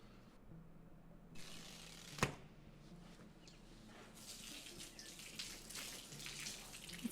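Water is poured onto a newly built house floor during a waterproofing test, a steady splashing and running wash that keeps going the whole time, with one sharp knock partway through and no talk.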